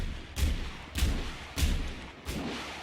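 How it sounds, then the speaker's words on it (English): Artillery shells dropping in during a competitive online shooter match land as four heavy booming impacts at roughly even intervals, each a deep thud with a rumbling tail, set against a steady background din. "And Skyfly is dropping in artillery on that B rebel right there."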